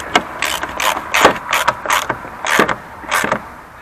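A hand ratchet tightens the factory bolt on the air intake of a Dodge Ram with a 6.7L engine, clicking in seven or eight quick, close bursts with short pauses between strokes.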